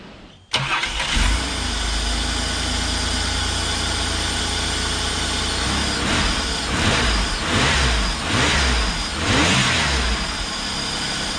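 A Holden VP Commodore sedan with a V6 starts up, settles into a steady idle, then gets several short revs that rise and fall, loud and close.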